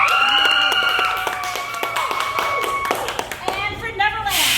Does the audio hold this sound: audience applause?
yes